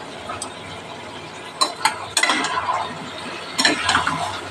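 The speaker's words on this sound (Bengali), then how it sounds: "এখন একটু ঢাকা দিয়ে দিয়ে কষে নিচ্ছি" Vegetable curry of taro stems, taro, pumpkin, potato and ridge gourd with spices being stirred and fried down in a pan: a few sharp scraping strokes of a spoon over a faint, steady sizzle, close by.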